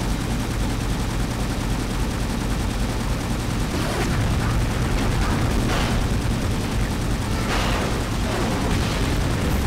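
Tank guns firing in James Bond 007: Agent Under Fire on the streets of Bucharest, a dense, loud rattle of shots and booms over a constant rumbling engine, with a few sharper blasts standing out.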